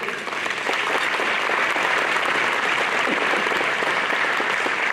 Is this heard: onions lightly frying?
no